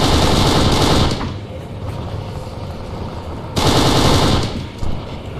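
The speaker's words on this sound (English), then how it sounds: "Where am I getting shot from?" Sustained automatic gunfire in the video game Kane & Lynch 2: Dog Days, loud and dense, with a long rattling burst, a quieter stretch of distant shots, then another heavy burst.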